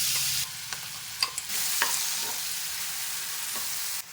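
Chili thecha fried in hot oil with asafoetida, cumin and mustard seeds in a kadhai, a steady loud sizzle broken by a few soft stirring knocks and scrapes.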